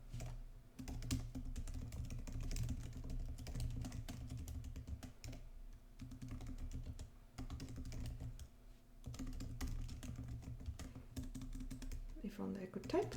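Typing on a computer keyboard, bursts of quick clicky keystrokes up close over a low steady hum, with a voice talking over parts of it.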